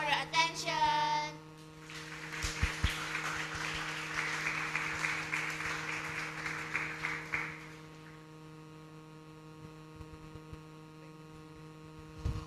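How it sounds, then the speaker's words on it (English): Steady applause from a crowd at an inventors' presentation event fills several seconds, then fades out, leaving a low electrical hum that continues throughout. "All right, another round of applause"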